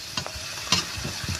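Onions with a little salt tossed into a pan for tempering over a clay village stove, brief clattering stirs and light sizzling, close and short.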